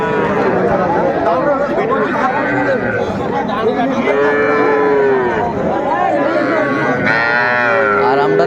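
Calves lowing at a cattle market in Mymensingh, drawn-out moos rising and falling several times over a steady hubbub of crowd chatter and nearby voices.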